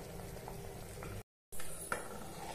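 Vangi bath mixture bubbling at a steady boil in an open pressure cooker before the whistle goes on, a soft continuous bubbling close by with one brief gap of silence.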